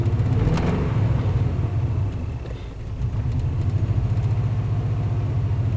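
A 1998 Chevy truck with a Vortec engine, running again after ten years of sitting, idles close and loud with a steady low rumble and a slight misfire that makes the beat uneven, with no talking.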